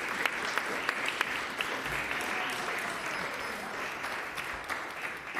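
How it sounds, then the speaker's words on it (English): Audience applause at a city finance committee meeting honoring the finance team, a steady round of clapping with a few sharper individual claps standing out, fairly distant in a large room. "let's give them a very, very big round of applause."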